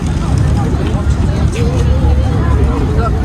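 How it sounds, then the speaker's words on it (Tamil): A speedboat on the Thames in London churns past in a steady, dense engine-and-water roar, mixed with crowd babble and voices talking over it. "வா பாருங்க, இது ஸ்பீட் போட்."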